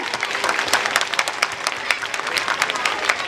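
An audience at a Christmas celebration claps in a lively, sustained round of applause, many hands sounding crisp and fairly near, with some crowd voices murmuring underneath.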